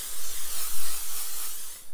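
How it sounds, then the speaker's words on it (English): Cooking spray hissing onto a large baking pan before fish is added, a steady close aerosol spray lasting about two seconds with slight pulses, no talking. "I got a big baking pan here. I'm just gonna spray it up and put our fish in it."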